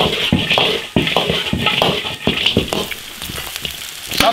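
Marinated pork ribs fry loudly in an iron wok with a dense, continuous sizzle, broken by sharp scraping and clacking strokes as they are tossed.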